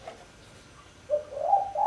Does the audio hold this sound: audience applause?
no